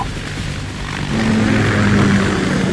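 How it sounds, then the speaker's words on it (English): A Kamov Ka-60 Kasatka helicopter in the Metal Gear Solid 2 video game, a loud, steady rotor and engine drone that swells slightly and holds throughout. "Ka-60 Kasatka. Kasatka? Kamov chopper, right?"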